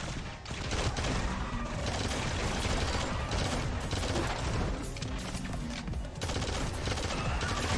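Rapid bursts of rifle fire from the Megalodon legendary burst rifle in the shooter game Shadowgun Legends crackle densely and continuously, layered with explosive impacts and no speech.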